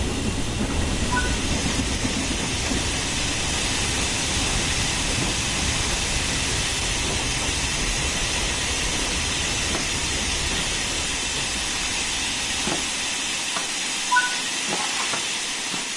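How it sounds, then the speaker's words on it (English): A steam locomotive in a train video game hisses and rumbles steadily, with a broad wash of steam noise and faint rail clatter as it brakes to a stop and settles. "Use the combination brake to apply some braking force and bring the train to a stop."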